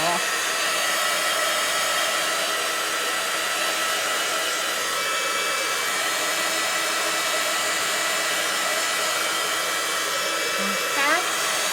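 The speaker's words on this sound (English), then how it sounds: "I'm going to grab my heat gun." Heat gun drying ink on a stamped craft card, a steady loud blowing roar running without a break from start to finish.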